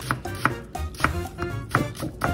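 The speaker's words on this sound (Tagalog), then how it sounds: "hiwain na natin yung sibuyas" A knife chopping onion into small pieces on a board, giving a steady rhythm of crisp, fairly close taps about three per second, with no talk.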